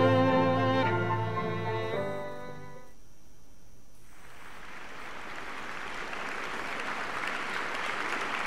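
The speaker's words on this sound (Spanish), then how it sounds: "Aplausos." A sustained musical note fades out in the video game The Lion's Song, then dense applause from a theatre audience swells up and carries steadily to the end.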